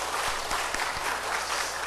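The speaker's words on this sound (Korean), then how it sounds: "이게 격려의 박수가 좀 필요한 부분이죠" A church congregation applauding in encouragement during a Sunday worship service, a short burst of dense clapping with a few heavier thumps, fairly close and steady.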